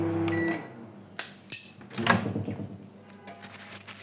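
A baked pizza is taken out of an oven: a door clunk, a couple of sharp knocks and a scraping slide, with a low hum fading early, close and moderately loud, no voices.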